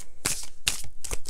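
A deck of tarot cards shuffled by hand in a few quick, close riffling bursts, each a brief papery rustle separated by short pauses, with no talking.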